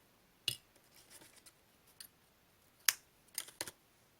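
Scissors snip crochet yarn for a shell-shaped crochet pouch, producing a few crisp, quiet cuts spaced apart, including a brighter snip near the end. The room is otherwise silent.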